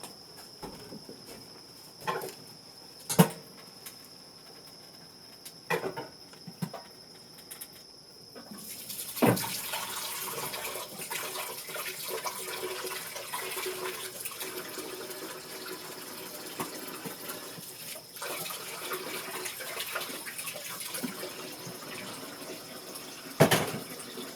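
Water running from a tap while strained maggots are rinsed, a steady close splashing flow that starts midway after quieter clicks and handling noises, with occasional knocks.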